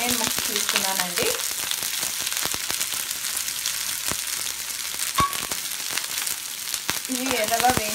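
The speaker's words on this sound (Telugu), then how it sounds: "ఇవి ఎర్రగా వేయించుకోవాలి" Two medium onion pieces with cinnamon frying in a pan for biryani shorba, a steady dense crackling sizzle that continues without pause, with occasional light stirring clicks.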